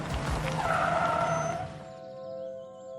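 A car skids to a halt with a loud tire squeal that fades out, leaving a ringing tone behind.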